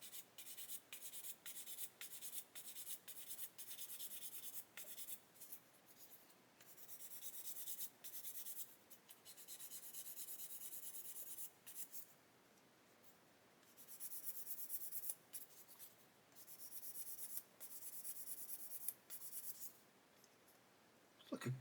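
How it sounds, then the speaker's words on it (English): Dried super glue on a 1/32 Lancaster B.III plastic model bomber is sanded by hand in short, quiet rubbing strokes that stop and start again with small pauses. "We should be able to sand this super glue now."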